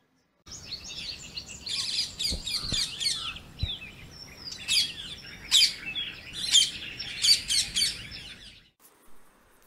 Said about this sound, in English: These are small green colored birds with a rose colored ring on their necks.